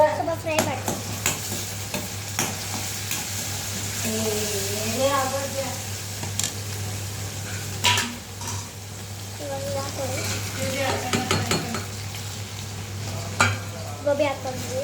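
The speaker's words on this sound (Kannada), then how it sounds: "ಸ್ವಲ್ಪ ಫ್ರೈ ಮಾಡ್ತೀನಿ" Cauliflower (gobi) pieces for gobi manchurian frying and being stirred in a pan with onion, a steady sizzle under repeated scraping strokes of a spoon, with a person talking over it and a constant low hum beneath.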